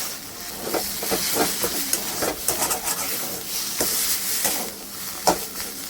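Frying with turmeric, salt and a little sugar for a Bengali dhoka dalna, a hissing sizzle under irregular scraping and stirring strokes, close and moderately loud, with no voices.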